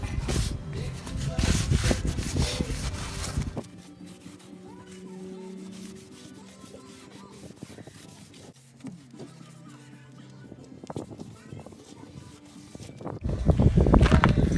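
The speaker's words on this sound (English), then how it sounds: "wipe here, the cleaning wipe, and wipe that entire area off and get it as clean as possible before we put the second layer of the Keel Eazy on" Cleaning wipe rubbed along the keel area of a kayak hull, a soft scuffing friction that comes in bursts, loudest at the start and end, with quieter rubbing between.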